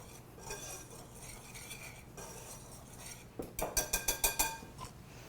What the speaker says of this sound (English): So you're going to start by just whisking all those dry ingredients together.